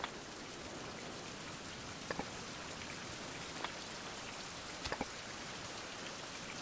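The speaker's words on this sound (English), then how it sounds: "Oh no, it's raining again." Rain falls in a survival video game as a steady, soft hiss, with a few faint brief ticks scattered through it.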